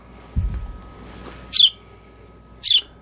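A baby bird gives two short, sharp high cheeps about a second apart while it is being hand-fed up close, after a soft low thump, with quiet room background in between.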